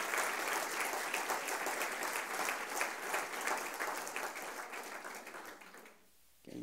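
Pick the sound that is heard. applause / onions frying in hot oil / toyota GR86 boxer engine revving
applause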